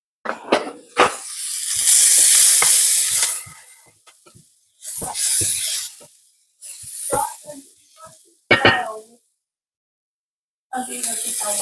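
An onion sizzles in a pan for a one-pot Cajun sausage pasta sauce, heard as close bursts of sharp hissing separated by quiet gaps, with talking in between.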